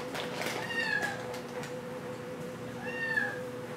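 A tuxedo cat at the Okefenokee Humane Society animal shelter in Waycross, Georgia meows twice, once near the start and again about two seconds later, clear and close against a quiet room hum.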